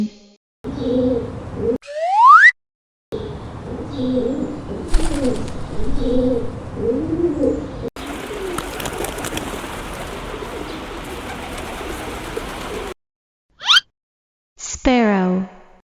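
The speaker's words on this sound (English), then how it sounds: "pigeon," Pigeon cooing in repeated soft, rounded calls, a steady low rhythm running through most of the stretch, framed by brief gaps and a few short rising whistle-like sounds near the start and end.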